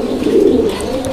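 Pigeons at a pigeon seller's loft coo in a close, steady, throaty murmur that swells in the middle and runs unbroken for about a second, with no voices over it.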